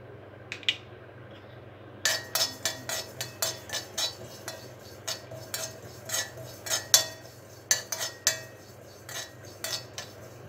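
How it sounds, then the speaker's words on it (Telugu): Sesame seeds dry roasting in a pan on a stove, with a steady run of close, sharp metallic scrapes and clinks as a spatula stirs them, quick irregular strokes over a low hum. "స్టవ్ మీద ప్యాన్ పెట్టి నువ్వుల్ని డ్రై రోస్ట్ చేసుకోవాలి."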